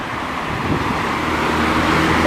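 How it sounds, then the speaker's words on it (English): Dense road traffic with vehicles passing close by, a steady roar of engines and tires that swells slightly toward the end, with no voices. "Can the people sleep there with a lot of noise of the vehicles?"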